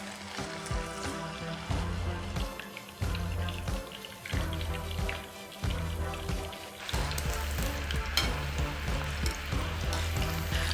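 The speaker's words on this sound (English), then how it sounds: "let's take one piece at a time and let's start frying the chicken" Loud continuous sizzling and crackling of chicken pieces frying in hot oil for Kerala-style chicken kondattam, with occasional bursts of spatter and low bubbling.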